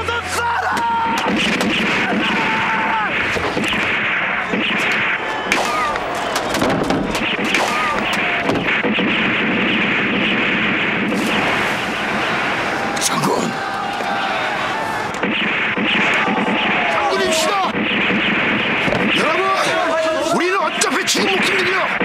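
Cannon and gunfire crash through a naval battle in a Korean historical TV drama, with repeated booms and impacts over loud battle noise, swelling music and shouting voices throughout.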